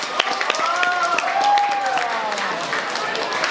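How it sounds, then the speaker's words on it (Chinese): Live crowd clapping at a dance performance show in Chongqing, a dense wash of applause with a host's voice rising over it. "掌声！"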